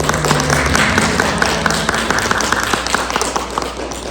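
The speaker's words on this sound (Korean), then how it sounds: "우리 함께 예배드리게 되는데 박수로 우리 환영하겠습니다." A church congregation claps to welcome guests at a Sunday worship service, dense steady applause filling the room for about four seconds, with a low sustained tone running underneath.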